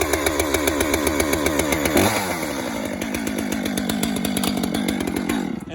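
A chainsaw started with the pull cord: rhythmic chugging, then the engine catches with a rising roar and settles into a loud, fast, buzzing run close by.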